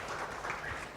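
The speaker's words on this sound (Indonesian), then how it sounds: "Tepuk tangan meriah buat Tuhan kita, Saudara." A church congregation applauds during an online worship service, a brief wash of clapping that stays steady and fairly faint throughout.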